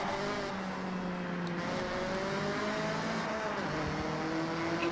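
Car driving in the racing game Forza Horizon, its engine droning steadily with shifting pitch as it accelerates and cruises, loud and continuous, no speech.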